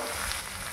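Fish frying in oil in a pan for Bengali macher jhal, a dense, steady sizzle close by with no voices.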